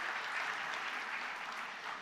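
A seated audience at a press freedom and media literacy forum bursts into steady, dense applause that holds at an even level for about two seconds, with no voices standing out.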